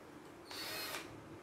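A 20-volt KOVA cordless drill whirs in one short, fairly quiet burst of about half a second while driving a screw, with no voices.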